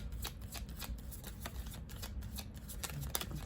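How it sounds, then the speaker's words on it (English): Tarot cards are shuffled and drawn from a deck, a rapid run of close, crisp riffling flutters and soft slaps at low volume with no voices. "Let me just get one more card."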